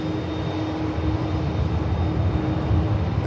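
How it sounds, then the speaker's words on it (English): A Ryanair jet airliner takes off at Manchester Airport, a loud, steady engine roar with a sustained whine and a rumbling low end, heard from nearby with no talk. "There goes the Ryanair."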